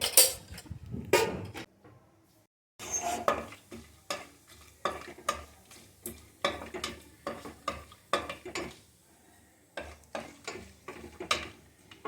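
Cinnamon, cloves, star anise and cumin go into a pan for a paneer and fenugreek biryani, heard as a run of distinct spoon-and-pan scraping strokes with brief pauses and a light sizzle beneath.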